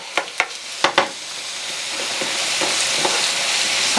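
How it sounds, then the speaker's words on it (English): Plantain frying in a pan while being stirred, a few sharp utensil clacks early on followed by a steady, close sizzle that builds slightly, with no one talking. "we'll keep stirring that and just making sure that it's not burning, because we don't want it to burn"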